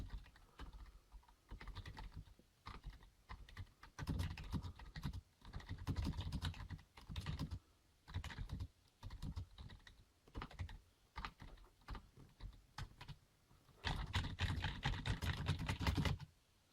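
Rapid typing on a Rii RK100 backlit USB keyboard with raised, mechanical-feeling keys, close and clear, in irregular bursts of clacking keystrokes with short pauses, ending in a dense flurry.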